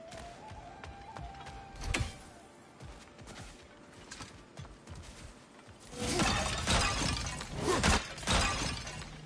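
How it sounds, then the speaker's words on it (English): Pumpkins get smashed in God of War Ragnarok, a sharp cracking burst followed later by a cluster of loud splintering, crunching impacts over quiet ambient game sound. "Hey, look at smashing pumpkins."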